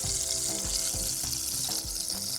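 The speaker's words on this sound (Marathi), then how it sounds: "आता आपण फोडणी करूया" Butter crackles and sizzles steadily in a pan for a Marathi-style tempering for bread upma, with occasional soft knocks and scrapes from stirring, close and continuous.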